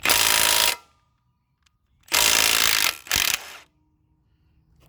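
Ratchet turning the axle nut off a KM100 motorcycle, two loud, sustained bursts of rapid pawl clicking, close up, followed by a shorter third burst, with near silence in between.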